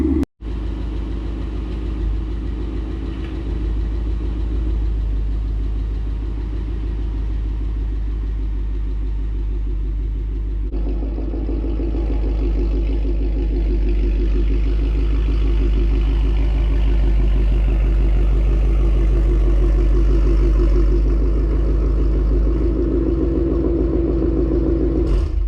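A 2019 Ford Mustang GT V8 engine holding a steady high idle after a cold start, a continuous deep rumbling drone heard up close, loud and unbroken, with a slight rise in intensity partway through.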